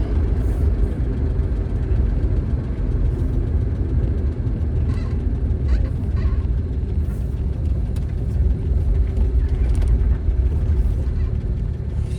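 A 1963 Dodge Dart engine runs with a steady, loud, low rumble close by, holding an even tone throughout without revving or speech.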